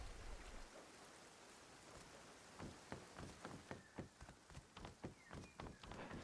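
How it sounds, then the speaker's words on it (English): Rain falls in the video game Rust as a faint, steady hiss with a quickening series of soft drip-like taps over the second half, quiet and without speech. "Oh, it's raining."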